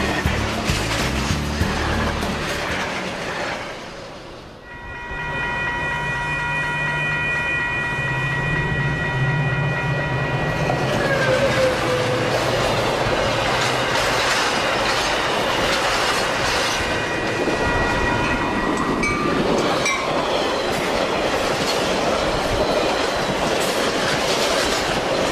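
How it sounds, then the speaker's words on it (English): Metra commuter trains roll past up close, loud rumbling and clattering wheels with a horn-like tonal blast and squealing, continuous throughout. "the most impressive trains on the route are the fleet of Metra commuter trains that come in"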